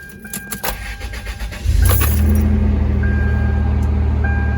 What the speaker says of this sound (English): All right, let's start her up.